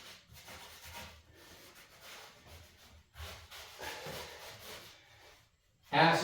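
Glue squeeze-out being wiped and scrubbed off wood and clamps with acetone during a wenge dining table glue-up, with uneven rubbing strokes close by and a sharper burst of scraping at the end.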